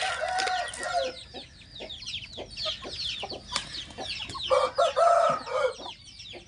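A flock of roosters kept together crow in overlapping calls near and far, mixed with sharp clucks and chicken chatter, with two long loud crows standing out at the start and near the end.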